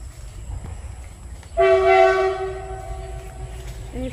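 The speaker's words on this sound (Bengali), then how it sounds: "দেখছো বন্ধুরা ট্রেনের কিরকম হুইসেল দিচ্ছে?" A passing train sounds a loud, sustained horn near a jungle and tea garden, blaring about a second and a half before fading under the continuing rumble of the train.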